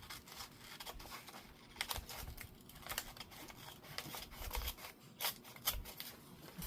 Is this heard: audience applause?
no